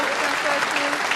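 Snooker crowd applauding Mark Selby's break during a 147 attempt: dense, sustained clapping fills the whole moment at an even level, with faint voices underneath.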